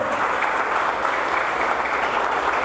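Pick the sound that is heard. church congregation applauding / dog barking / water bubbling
church congregation applauding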